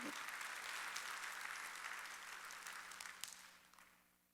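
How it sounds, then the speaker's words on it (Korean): A church congregation applauds during a Sunday worship service, a dense, even wash of many hands clapping that gradually fades away toward the end. "박수로 하나님께 영광을 돌립니다"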